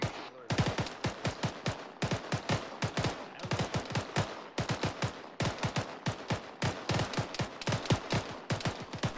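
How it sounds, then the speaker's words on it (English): Sustained evasive gunfire in ArmA 3, rapid bursts of automatic shots in steady repeated volleys, crisp and close, with little talk. "Bravo, keep putting down evasive fire."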